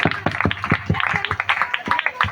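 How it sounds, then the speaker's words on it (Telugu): A small audience clapping after a youth skit, a fairly close scattering of distinct hand claps in an uneven rhythm, thinning out briefly before picking up again. "గట్టిగా చప్పట్లు కొడదామండి"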